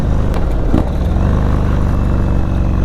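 A 2022 Indian Chief Dark Horse motorcycle with a Stage 2 setup rumbles loudly during a gear change on a ride, its engine note dipping and swelling briefly under steady wind noise.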